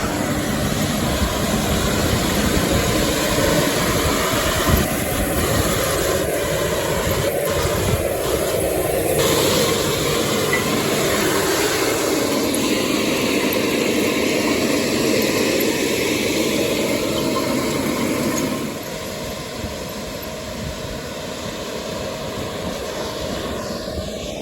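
A tractor with a front press pulls a seed drill across a spring field, its loud engine droning steadily up close before easing to a lower hum near the end.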